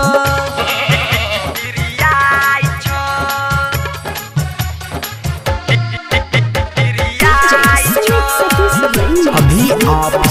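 Goat-like bleating cries rise out of a loud, busy Bhojpuri wedding song, mixed in with steady drums, keyboard and other instruments throughout.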